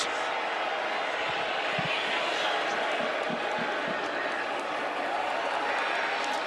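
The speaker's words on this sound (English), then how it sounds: "This is a raucous crowd here in Bozeman, Montana today." A raucous football crowd roars steadily in a Bozeman, Montana stadium during an FCS championship semifinal against South Dakota, a constant wash of noise with faint thumps beneath.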